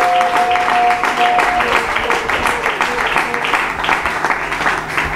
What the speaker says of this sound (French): Alors acclamons pour le Seigneur.